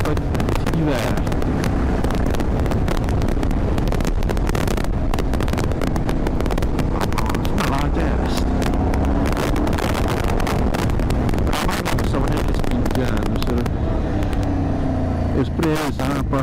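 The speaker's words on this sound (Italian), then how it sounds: "mi piace il rumore della mia moto" Riding a motorcycle on an outing around Lago di Camastra, the engine drones continuously beneath heavy wind buffeting the microphone, loud and close throughout, with a voice speaking at times over the noise.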